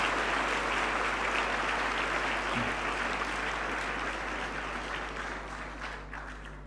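Audience of learners applauding at the launch of National Science Week 2025 at Tshwane University of Technology, a broad, steady clapping that slowly fades toward the end under a constant low hum.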